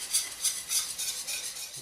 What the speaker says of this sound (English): once all your half and half is in, you just keep stirring and whisking for about 5 minutes or so